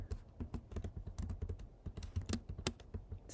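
Rapid, close clicking of keys on a computer keyboard, irregular bursts of typing with no talking.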